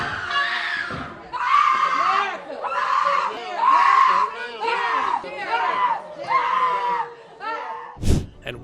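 Two convicted criminals wail and scream in a courtroom after receiving life sentences, loud, ragged cries rising and falling in repeated bursts, ending with a sharp knock.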